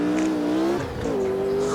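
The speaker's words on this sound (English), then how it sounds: "I can't remember the engines cracking and whipping like that" A 1969 Formula One car engine in the Automobilista 2 racing game, droning loud and steady, then dipping as the driver lifts off the throttle with crackling and popping before picking up again at a lower pitch.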